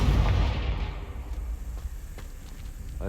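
A Confringo fire spell explodes in a Harry Potter-style video game, opening with a loud, rumbling blast that fades into a lingering crackling tail, with no voices.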